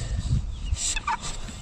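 Farm birds in an aviary gobble in loud, close bursts, with faint clucking and rustling in between.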